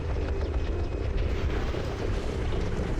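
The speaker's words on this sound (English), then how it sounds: "Escort the Rubicon Liberation Front's transport helicopter." Transport helicopter in Armored Core VI, a loud, steady, low droning rotor and engine roar that continues without a break.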